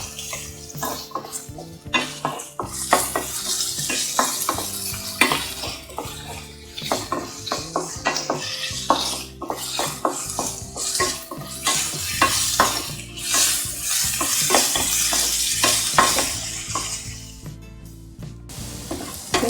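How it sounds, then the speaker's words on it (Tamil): Onion, ginger and garlic sautéing in a pan for mushroom masala, with steady sizzling and frequent rhythmic scraping of a spoon against the pan, loud and close. "வெங்காயம், இஞ்சி, பூண்டு வதங்கிருச்சு"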